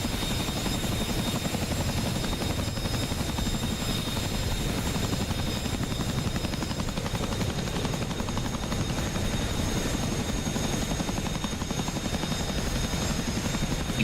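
A helicopter in the DCS flight simulator game drones with a continuous rotor thrum and engine whine at steady, even loudness throughout.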